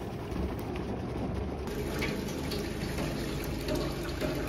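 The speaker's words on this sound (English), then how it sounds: "we're pumping the sap from our tank out there into our warming tray, which is then going into our pan" Maple sap pumped from a holding tank into a warming tray above an evaporator pan gives a steady, continuous gush of liquid over a constant pump hum, with no breaks.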